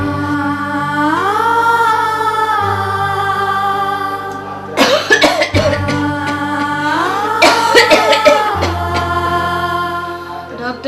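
A sick woman with a fever coughs in two short rough bursts, heard over a sustained background music score in a film scene.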